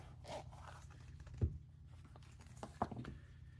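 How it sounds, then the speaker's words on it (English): A zipper on a watch travel pouch pulled open in a few quiet, short rasping strokes, with soft handling rustles and light clicks close by. "So let's get it out of the travel pouch."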